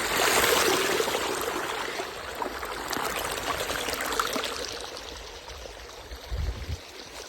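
Irrigation water flows steadily into a farm field in rural India, a continuous rushing, trickling wash heard close by with a few low thumps near the end.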